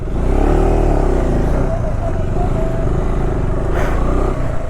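A motorcycle engine pulling in first gear on a mountain road toward Pangong in Ladakh, a loud, continuous, rumbling drone close by with slight shifts in pitch as it labours uphill.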